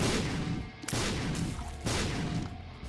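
Ipecac explosions in The Binding of Isaac Afterbirth video game, two heavy booming blasts about a second apart over dense, loud, continuous game noise.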